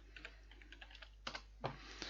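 Quiet keystrokes on a computer keyboard as a command is entered, a run of separate taps with a few louder clacks near the end, over a low steady hum.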